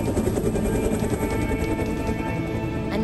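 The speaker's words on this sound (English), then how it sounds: "Abba Chic have just arrived on their helicopter" A helicopter arriving at an air festival in Bournemouth drones loudly and steadily nearby, its rotor chop thumping in a constant rhythm throughout.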